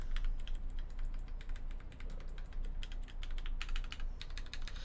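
Rapid clacky keystrokes on a KBD19x mechanical keyboard with GMK Minimal keycaps, a dense, steady run of crisp close-up clicks typed alone with no talk.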